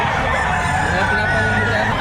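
A rooster crows loudly and close at the Padre Garcia livestock auction market in Batangas, one sustained call over a dense bed of other fowl clucking and crowing.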